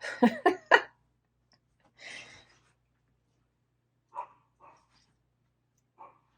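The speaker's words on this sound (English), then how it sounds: "I hear barking." A few short, sharp barks sound from a distance, spaced out after a brief burst of closer noise; faint and sparse against quiet.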